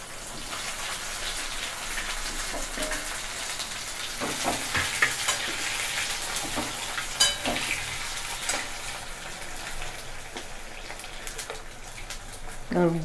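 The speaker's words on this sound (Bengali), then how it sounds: "এবার ভাজা আলুর টুকরোগুলো আমি দিয়ে দিচ্ছি" Fried potato pieces tipped into a pan of sizzling spice tempering for a raw banana kofta curry, giving a steady hiss and crackle throughout with scattered soft clinks and stirring bumps.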